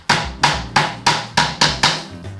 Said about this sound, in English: just chiseling down till we hear that sound change, then we know we're bottomed out